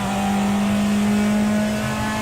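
Mazda MX-5 engine in a racing video game revving steadily, a loud sustained drone with a constant pitch and no talk over it.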